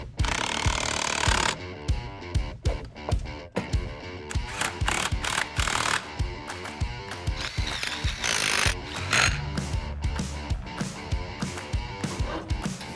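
An air impact wrench bolts a tire and wheel onto a 1956 Chevy in a garage, firing in loud repeated bursts of rattling hammering with short pauses between, close and dominant throughout.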